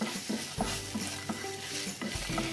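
Soft sizzling of spices in hot oil for a light tempering, with periodic stirring taps and scrapes, close by, steady throughout.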